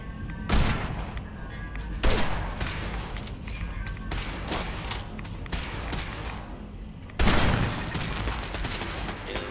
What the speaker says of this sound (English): Pulse grenade, that'll get rid of it.